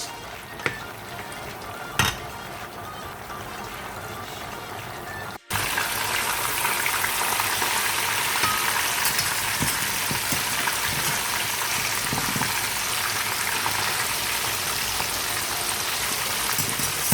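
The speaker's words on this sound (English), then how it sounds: "this is the way I fry my fish" Fish frying in a pan of hot oil, a quiet hiss with a few clanks before a sudden jump to a loud, steady, dense sizzle that continues unbroken, close and without talking.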